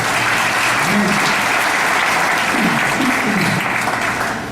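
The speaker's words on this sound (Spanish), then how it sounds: "Denle un aplauso si usted necesita que Dios le hable" A church congregation applauds in a loud, dense, sustained burst of clapping, with some voices murmuring and calling out underneath before it begins to fade at the end.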